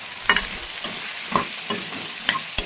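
Okra is stir-fried in a pan over high flame. A steady sizzle runs throughout, broken by sharp scrapes and clicks from the spatula every half-second or so.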